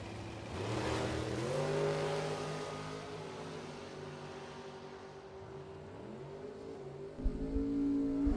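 Shorty dragster and a 1967 Camaro in a bracket drag race, loud engines roaring and revving together, pitch sweeping up through gear changes, with a sharp burst near the end.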